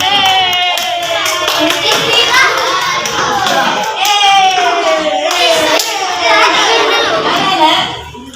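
A classroom of young children claps together in quick, rhythmic bursts, loud and close, with high-pitched children's voices chanting and shouting throughout.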